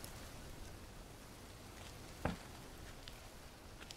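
Steady rain falls in the survival video game Green Hell, a faint constant hiss and patter with scattered brief drips, and one short sharp knock near the middle, with no voices.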